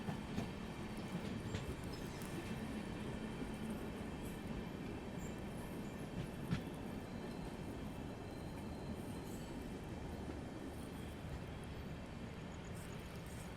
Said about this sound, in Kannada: ತುಮಕೂರು ಬಾನಸವಾಡಿ ಮೆಮು ಎಕ್ಸ್ಪ್ರೆಸ್ ಇರ್ಬೋದು